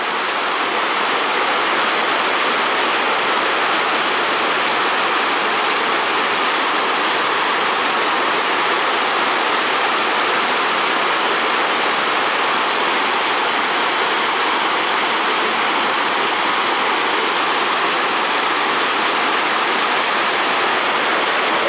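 Loud, constant roar of the Newport River in Ireland rushing in flood, a dense unbroken wash of sound with no pauses, heard close and alone.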